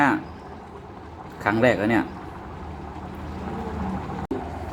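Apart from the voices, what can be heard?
hot oil sizzling while cooking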